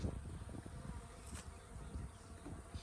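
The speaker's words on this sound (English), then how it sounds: "A lot of bees on an excluder." Honey bees swarm over a hive's queen excluder, their steady, dense buzzing filling the air at close range with a continuous low hum and no voices.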